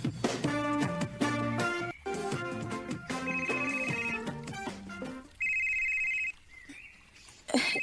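A melodic ringtone plays a bright looping tune, followed by a few higher electronic beeps, loud and close with no talking.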